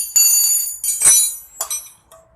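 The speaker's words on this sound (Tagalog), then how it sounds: "The rear wheel sprocket has 6 bolts that has to be removed." Tools work on the rear wheel sprocket bolts of a Honda CRF250L motorcycle, giving a few close, sharp metallic clinks and ringing scrapes in short separate bursts.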